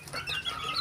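White Kelso and Asil chickens give a brief burst of soft clucking, a short close murmur of fowl sounds with no talking.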